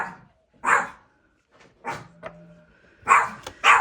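A house dog, set off by the postman's arrival, lets out a run of loud, close barks and yips in irregular bursts, with a short whimpering tone between them and no speech.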